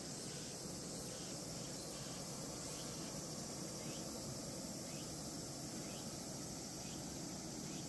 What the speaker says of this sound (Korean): 말벌 소리가 들리긴 하는데 보이질 않아요